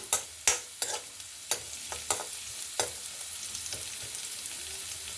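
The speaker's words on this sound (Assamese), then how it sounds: "ড্ৰাই ফ্ৰুটখিনি আৰু এইখিনি অকণমান ভাজি লৈছোঁ" Dry fruits fry in homemade ghee in a kadai, a steady sizzle broken by several sharp scraping stirs of a spatula near the start, softening to a quieter crackle with no talk.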